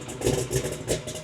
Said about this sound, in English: It revs, it's raspy.